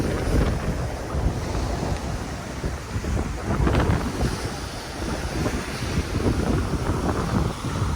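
Swollen river surging in a typhoon in Sagñay, Camarines Sur, with a broad, continuous roar of rushing water heavily mixed with wind buffeting the microphone, loud and unbroken.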